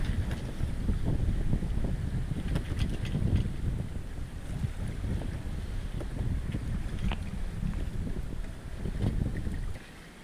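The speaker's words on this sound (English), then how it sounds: "Sailing downwind with the Genoa only in pretty light winds." Sailboat running downwind under Genoa alone in light wind, with steady wind noise buffeting the microphone and water rushing along the hull, continuous and fairly soft throughout with no talk.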